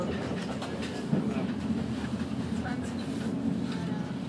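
Steady low rumble of an NS passenger train running on rails between Schiphol Airport and Den Haag, heard from inside the carriage as a continuous drone with faint clatter, alone without talk.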